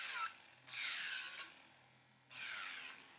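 Polygel nails are filed with three firm rasping strokes, each lasting about half a second or more, close and fairly quiet, with short gaps between them.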